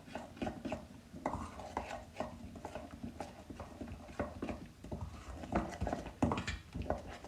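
A spoon stirs a sesame and semolina mixture with flour in a bowl, making quick, uneven scrapes and clinks against the bowl. The close, soft clatter is steady and runs with no talk.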